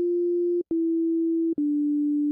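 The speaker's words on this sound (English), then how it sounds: "Right now, we're just set for a sine wave, so there's no overtones at all." A synthesizer oscillator set to a pure sine wave with no overtones holds a steady, clean low tone, broken by two brief gaps, each followed by a slightly shifted pitch.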